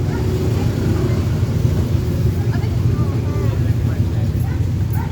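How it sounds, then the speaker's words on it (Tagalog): Steady low rumbling wind buffets the microphone throughout, a constant roar with no clear talk over it. "Ay, mahangin."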